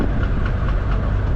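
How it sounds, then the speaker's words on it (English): A 1967 Pontiac Grand Prix convertible under braking, with a rough clattering, pulsating vibration from the rear brake. It comes through as a loud, continuous rumbling rattle with faint uneven pulses. "like clattering, pulsating when I hit the brake in the back on this side"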